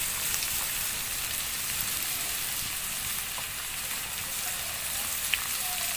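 Capsicum, beans and other vegetables fry in a pan for vegetable vermicelli chow mein, giving a dense, even sizzle that holds steady from start to finish with a few faint pops and no talking.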